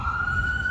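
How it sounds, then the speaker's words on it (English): An ambulance siren on a Los Angeles street holds a steady, loud wail, continuous and close over low traffic rumble, with no speech. "Got an ambulance here."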